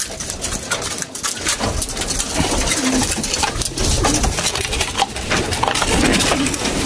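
Pigeons kept as racing birds coo repeatedly over a steady, busy background hum, the calls low and soft and overlapping in an irregular rhythm throughout.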